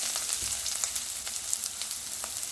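Onion fries in a pan while a vegetable-stuffed chapati is being made. A bright, steady sizzle crackles close by, with occasional soft stirring and no talking.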